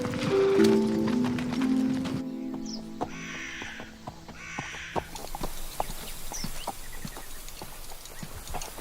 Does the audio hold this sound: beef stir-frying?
no